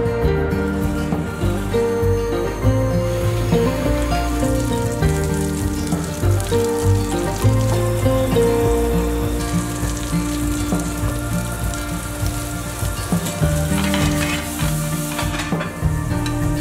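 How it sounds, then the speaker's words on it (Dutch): Sausages, mushrooms and endive frying in a pan, a continuous close sizzle with occasional scrapes and clinks of a utensil stirring the food. "En toen was het tijd om te koken met worstjes,"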